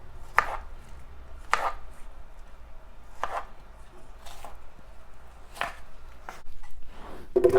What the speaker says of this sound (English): Slice that up real quick.